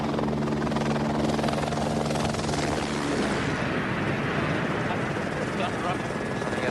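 A rescue helicopter used for search and rescue hovers during a winch exercise, its rotor and turbine roaring loud and continuous, with a droning hum that fades into broadband rotor wash.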